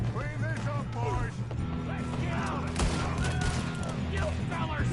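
Gunfire in the Western video game Red Dead Redemption 2, a dense fusillade of shots and impacts crackling over a steady low hum, with voices talking beneath the shooting.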